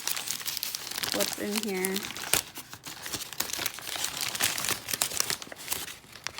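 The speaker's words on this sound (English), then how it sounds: "I got this box and it's just like bags of old fasteners of some type." Hands rummage through crinkling plastic bags of old fasteners in a box, with rustling and crunching throughout, while a person talks briefly over the noise.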